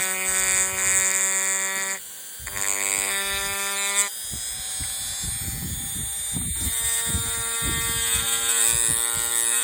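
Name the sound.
Dremel rotary tool stippling a pistol frame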